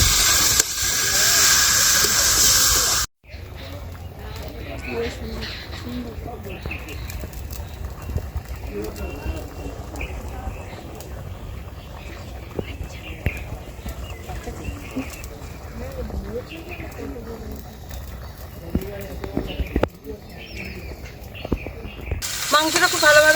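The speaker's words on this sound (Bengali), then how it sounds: "এইবারে পেঁয়াজের সাথে মাংসটাকে খুব ভালো করে একটু কষিয়ে নেব।" Chicken frying with onions for an Assamese black pepper curry gives off a steady hiss and sizzle throughout, broken by scrapes and clatters of stirring, while someone speaks over the cooking.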